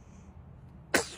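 One sharp, close sneeze bursts out suddenly after a near-silent pause and fades quickly.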